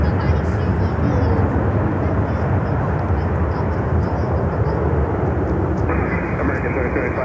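A large airliner lands at Miami airport in a crosswind, its steady, loud engine roar filling the scene throughout, with a brighter whine rising near the end and a voice talking faintly underneath.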